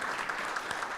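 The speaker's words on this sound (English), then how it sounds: "can we please give Clay a round of applause?" A brief burst of dense audience clapping at an awards show, a steady, loud wash of many hands with no voices over it.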